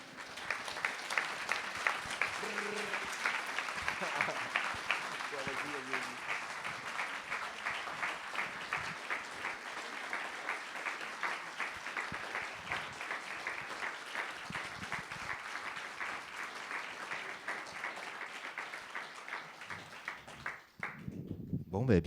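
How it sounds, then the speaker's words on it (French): Literary event audience breaking into sustained, thunderous applause that runs on steadily for about twenty seconds before fading out, with a few voices briefly heard. "j'aimerais qu'on fasse un tonnerre d'applaudissements"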